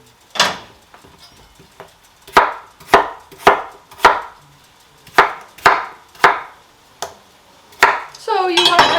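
Potatoes being chopped into bite-size pieces on a board for pumpkin soup, about a dozen sharp knife strikes in an irregular rhythm, close and loud, followed by a brief clatter at the end.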